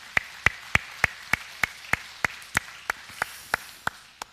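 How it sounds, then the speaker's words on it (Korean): A congregation in a Korean church service claps after a pastor's call for applause, coming across as about a dozen sharp, evenly spaced claps at a steady rhythm, sparse and moderately faint rather than a full ovation. "우리 박수 한번 하겠습니다."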